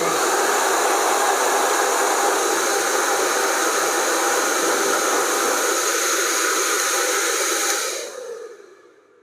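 A Parlux hair dryer roars with a steady, loud rush of hot air, then winds down and cuts off near the end.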